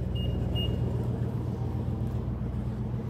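A 2020 BMW M340i idles with a steady low engine rumble throughout, even and continuous at close range, with no talk.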